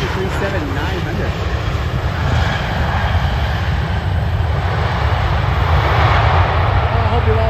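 A Boeing 737-900 airliner at Cleveland Hopkins airport roars as a loud, steady engine rumble that swells gradually. A voice talks over it.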